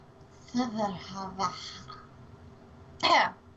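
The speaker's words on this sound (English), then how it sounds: "Sorry, need to clear my throat." A few rough throat-clearing bursts, raspy and close, separated by short pauses, with a final louder clearing near the end.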